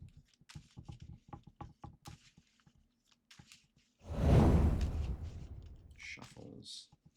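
A deck of Magic: The Gathering cards is shuffled during a Legacy match: after several seconds of talk, a loud, close riffling burst runs for about three seconds, ending in a few lighter card taps.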